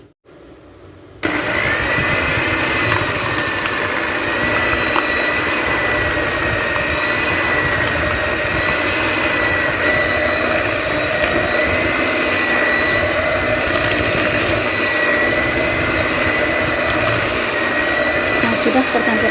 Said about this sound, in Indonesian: Nah, ini dikocok ya. Saya menggunakan mixer